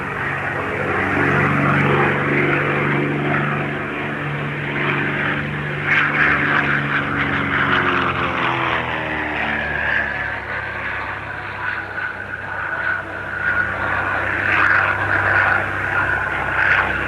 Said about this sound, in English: There was also an exhibition of aerobatics, with the planes leaving a trail of smoke behind them whilst performing some daring evolutions